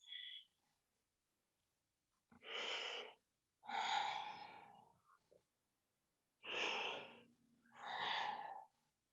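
Deep yoga breaths recorded close and quiet: four long airy inhales and exhales in two pairs, each a couple of seconds, separated by silence, with a brief breath at the start.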